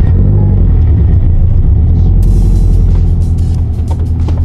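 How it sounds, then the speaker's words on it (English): A Subaru BRZ sits running close by, its engine producing a loud, steady low rumble throughout with slight fluctuations and no talk over it. "turn the car on."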